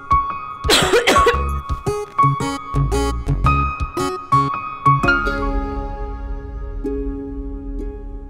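Someone coughs and clears their throat in a Pakistani TV drama scene, a cluster of harsh close coughs at the start followed by scattered thumps and a sustained tonal background.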